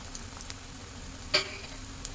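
Round onion bhajis fry in hot oil in a home kitchen. A faint, steady sizzle runs throughout, with one brief pop near the middle.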